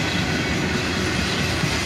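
A CSX freight train rolls steadily past, a dense, continuous rumble of wheels and cars with faint rhythmic clatter, close and unbroken as old rusty boxcars bring up the rear.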